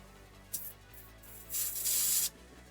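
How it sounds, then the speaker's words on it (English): An aerosol fogger can sprays near a workbench in two bursts, a brief hiss followed by a longer, louder sustained spray of almost a second, then quiet. "we're just using some aerosol atmosphere, just a fogger can."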